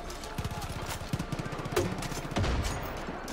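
Vector submachine gun in Far Cry 5 fires in short rapid bursts, dense rattling volleys repeating across the moment with a fairly close, loud presence.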